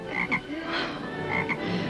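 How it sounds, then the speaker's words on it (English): A toad croaks in a few short, raspy calls that come in pairs, with a brief gap between them, close and clear against a quiet background. "What in the world do you want with another toad?"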